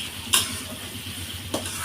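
Chopped onions and garlic fry lightly in a pan for a Malabar spinach curry. A steady soft sizzle runs throughout, broken by two or three brief stirring scrapes near the start and middle.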